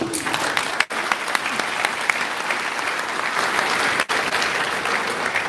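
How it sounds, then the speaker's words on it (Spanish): An audience at a religious debate between a Protestant pastor and a Catholic priest claps steadily and loudly for several seconds, the applause continuous apart from two brief dips. "Un aplauso para el hermano."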